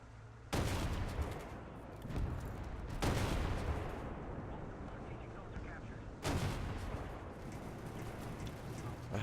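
ZSU-57-2 twin anti-aircraft autocannons firing in War Thunder, with heavy booming bursts near 0.5, 3 and 6 seconds over a steady rumble of battle noise.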